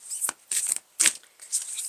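A deck of tarot cards is shuffled by hand in four quick bursts of riffling and sliding card noise, close and crisp, with short pauses between them and no talking.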